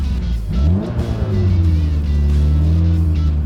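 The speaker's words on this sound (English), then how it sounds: "as you're revving it up, we should see that pick up a little bit" A Mitsubishi Evo race car engine revs steadily up close, its deep rumbling harmonics climbing and then holding at a raised pitch for several seconds.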